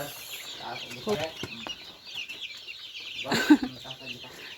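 Chickens at a poultry farm cluck and squawk at close range amid a busy coop, with a louder flurry of calls near the end.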